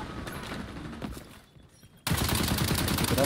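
An AK rifle in XDefiant fires in a rapid, close burst, first a scattered rattle, then a brief lull, then a loud sustained volley.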